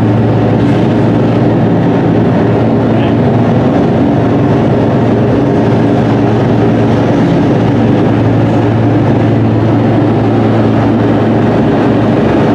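Continuous loud engine-room drone inside the USS Razorback submarine, a steady heavy low rumble with broadband machinery hum that never lets up.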